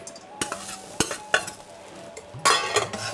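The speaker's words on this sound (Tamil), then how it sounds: "நெக்ஸ்ட்டு தேங்காவை வதக்கிக்கலாம்." Grated coconut sautéed in a pan for a country chicken curry masala: soft sizzling with several sharp spoon scrapes and clinks against the pan, close and fairly quiet, with no talking.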